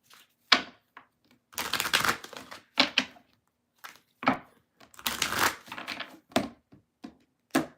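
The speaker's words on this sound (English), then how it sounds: "I gotta shuffle them up first." A deck of tarot cards riffled and bridged in repeated bursts of crisp papery rustling and snapping, close and fairly loud, separated by short pauses.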